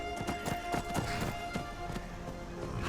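A horse's hooves clip-clop in Skyrim, a brisk run of close, sharp strikes in quick uneven rhythm over faint ambient background.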